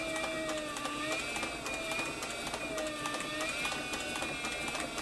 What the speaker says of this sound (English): I like this servo motor because you can just really slow it down and concentrate on sewing right in the groove.